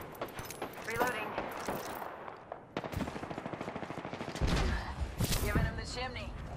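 Rapid bursts of automatic gunfire from a space-combat video game in which a ship's shields are being hit, crackling in dense volleys through the middle and end of the clip, with voices and game effects mixed in.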